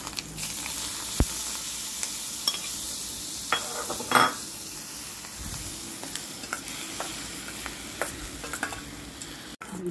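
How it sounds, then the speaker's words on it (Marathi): Turmeric being stirred into a hot tempering of red chillies and curry leaves, a steady close sizzle with scattered scraping clicks from a spoon against the pan, no voices. "हळद टाकली आहे, फिरवून घेणार आहे."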